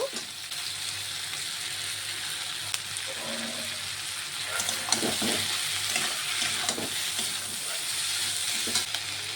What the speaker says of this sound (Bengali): আমি বাকি সবজিটিকেও একটু নেড়ে ছেড়ে নিয়েছি এখন বাঁধাকপিটি দিয়ে দেব